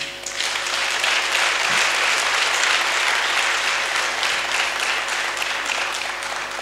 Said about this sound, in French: nous fassions un tonnerre d'applaudissements pour ce magnifique rassemblement